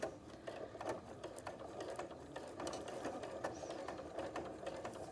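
A sewing machine with a presser foot stitching a curved seam with a backstitch: a fast, steady mechanical clatter of needle and gears running continuously at close range and low volume.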